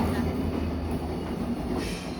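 Locomotive shunting back and forth at Mysuru Junction station, a continuous low rumbling drone with broadband rail noise echoing around the platform, steady and fairly loud.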